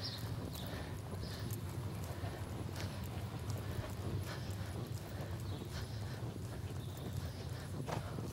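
Rhythmic clip-clop of a mare's hooves loping through a riding arena, steady and moderately close with faint background noise.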